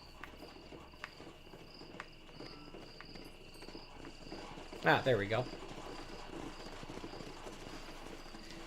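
Horse hooves in Red Dead Redemption on Xbox One: a short burst of clip-clopping arrives over a steady bed of crickets and insects, and a voice speaks briefly nearby.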